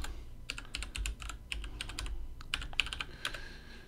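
Quick bursts of typing on a computer keyboard, a password going in for an SSH login to a Raspberry Pi, with close, light, irregular key clicks and no talk.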